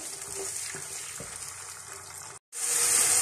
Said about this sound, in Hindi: थोड़ी देर इस प्याज को हम भूनेंगे ताकि इसका कच्चापन दूर हो जाए।